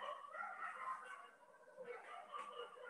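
Dogs barking and yipping in the distance, faint and repeated over a steady background, with a few whimpering yelps mixed in.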